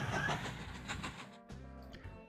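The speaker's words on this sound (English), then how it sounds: "that train's going okay" A train running in the video game Mashinky, heard as a brief rumble with rhythmic clattering that breaks off midway and resumes with a lower, steadier hum.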